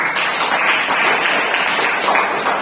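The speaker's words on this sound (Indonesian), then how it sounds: "Tepuk tangan semuanya." Students in a university lecture on injury prevention and care clapping together, a steady, dense round of applause held at an even level throughout.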